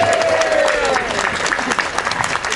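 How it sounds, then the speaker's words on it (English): Audience applause at a stand-up comedy demonstration for Russia, with dense, steady clapping from a crowd filling the whole stretch, a few voices faintly mixed in. "Give them a round of applause, for God's sake."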